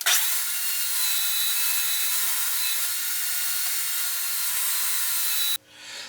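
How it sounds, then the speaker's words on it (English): Belt sander smoothing the edges of a wooden push stick, a steady loud abrasive whir held for several seconds before it cuts off and winds down. "So now I can take it over to my belt sander and start smoothing all these edges."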